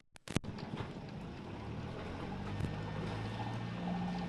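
A few sharp clicks, then a sailboat's engine starts and runs, its low drone rising in pitch as it revs up steadily.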